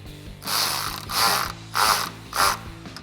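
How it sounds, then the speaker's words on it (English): A ratchet with an 8mm socket tightens a clamp on a cold air intake for a 5.7L HEMI Dodge Charger, clicking through four short, close bursts in an even rhythm. "tighten down the clamp with the same 8mm socket"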